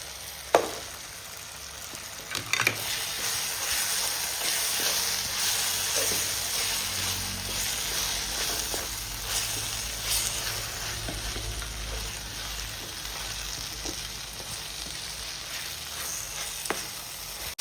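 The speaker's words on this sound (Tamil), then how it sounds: "இஞ்சி பூண்டு பேஸ்ட்டு இப்போ போட்டு போட்டுக்கலாம் வெங்காயம் தக்காளி வதங்கிறது" Onions and tomatoes sauté with ginger garlic paste in a pan, giving a soft, steady sizzle broken by occasional scraping stirs and clinks, faint and close with no speech.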